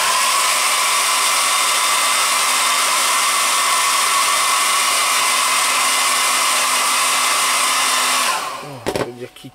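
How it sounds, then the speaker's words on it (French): A hair dryer blows loudly and steadily for several seconds while working on a Suzuki motorcycle, then clicks off abruptly near the end, leaving brief handling noises. "un petit coup de sèche-cheveux là, ici"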